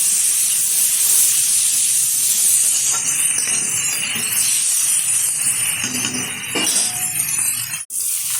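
Onion and tomato hiss and steam loudly in a hot pan, a continuous close sizzle with occasional clinks of stirring and a sharp knock near the end.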